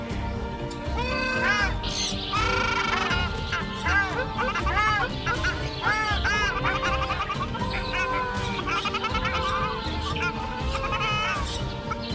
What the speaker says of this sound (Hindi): ये एक खूबसूरत सुर्ख रंग की बतख है जिसे रूबी शील्ड डक कहते हैं